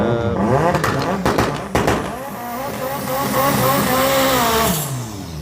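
Turbocharged drag racing car launching at a drag day, a loud engine sweeping up through rising revs after a few sharp bangs, close and dominant with no clear voices.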